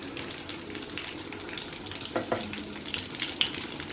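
Fish fillets in egg batter fry in a partly covered pan over lowered heat, giving a steady close-up sizzle with soft crackles and a few sharper pops.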